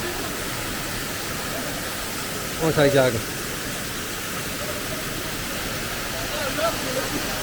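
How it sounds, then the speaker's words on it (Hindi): A small waterfall at Sirikot near Ghazi, Pakistan gives a steady, broadband rush of falling water throughout, with a brief spoken phrase over it partway through. "just wanted to show you this little mini waterfall"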